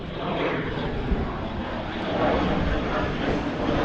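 Aircraft engine roar from a plane near an airport beside a marina, a steady broadband drone holding close and loud throughout with a slight swell toward the end, no talk.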